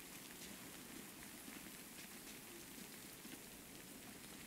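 Steady, hissing rainfall in a video game, a continuous wash of drops pattering on surfaces at an even level throughout, with no voices over it.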